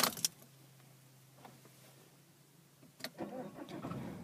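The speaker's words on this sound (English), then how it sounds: "looking at the display whilst I start the vehicle" A 2011 Vauxhall Insignia Exclusiv CDTI Ecoflex diesel starts. Keys jangle first, then a steady low starter hum runs for a few seconds before the engine catches with a louder rumbling burst near the end.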